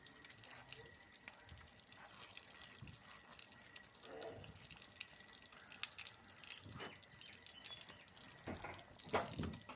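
Water runs steadily from a tap into a sink while something is soaked and washed, a continuous hiss broken by splashes and drips close to the microphone, with no voices.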